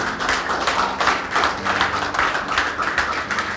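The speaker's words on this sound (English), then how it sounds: "can you put your hands together one more time to appreciate yourself? I don't like the way we're clapping." An audience at a conference claps hands together, a steady sustained round of applause with irregular overlapping claps throughout.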